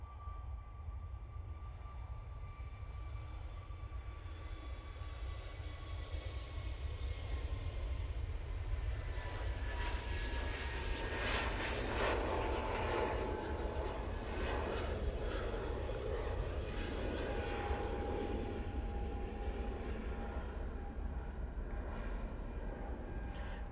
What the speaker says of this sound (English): Using an A321 Neo for this flight to Krakow